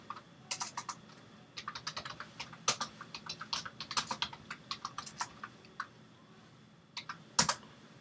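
Fast, uneven typing on a computer keyboard while a Helium hotspot name is entered, crisp clustered clicks in bursts with short pauses, close to the microphone, no talk.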